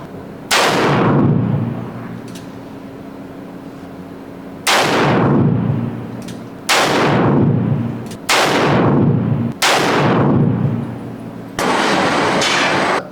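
Five loud, booming gunshots ring out at a shooting range, well spaced over about thirteen seconds. Each one cracks sharply and rolls off into a long echo.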